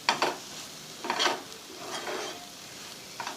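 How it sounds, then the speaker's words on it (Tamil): Mango ginger sautéed with asafoetida in a pan: a soft sizzle is broken by several sharp scraping stirs that come in short bursts, and nobody speaks. "நல்லா அதை வதக்கி விட்டுடலாம்."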